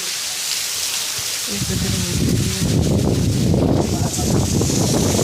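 Heavy monsoon rain pours down steadily as a loud broadband wash that thickens and grows denser after the first second or so, continuing without a break.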